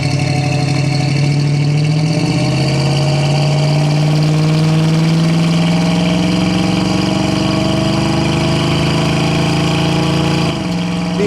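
A 1966 Ford Mustang with dual exhaust manifolds and aftermarket mufflers cruising down the road, its engine droning loud and steady with a low rumble that climbs gradually in pitch as it accelerates, with no voices over it.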